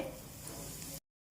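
Ghee with cumin seeds sizzles steadily for a tempering in a curd rice preparation, a close, continuous crackling hiss that stops abruptly for a moment near the end before resuming.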